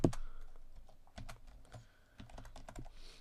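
Fingers type on a computer keyboard, entering a layer name in Photoshop: a quick irregular run of close, soft key clicks with brief pauses, no talking.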